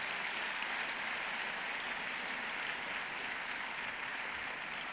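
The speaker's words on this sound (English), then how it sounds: "So maybe a round of applause for the foundation" Faint, even wash of applause from a conference audience in Lisbon honouring a foundation's report, heard as distant, continuous clapping at a low level without breaks.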